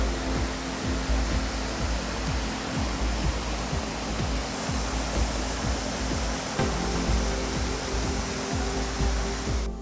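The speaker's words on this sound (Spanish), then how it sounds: "Hasta el fondo tenemos la cascada." Steady broadband rush of a distant waterfall at a glamping site in Zacatlán de las Manzanas, a constant even roar filling the background with no voices over it.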